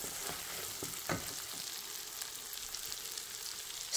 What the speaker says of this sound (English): Once the oil is hot, add the shrimp and cook until a thick paste forms and the oil is released